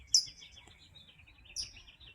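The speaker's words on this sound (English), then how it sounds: "Can you hear it chirping?" An unidentified wild bird gives two short, high chirping bursts spaced about a second and a half apart, moderately close over quiet low background noise.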